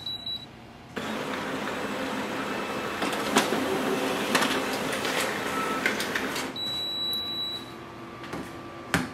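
A Canon imageCLASS LBP236dw laser printer prints a document after a few soft beeps, giving a steady mechanical whir and paper-feed hiss with light clicks for several seconds before winding down.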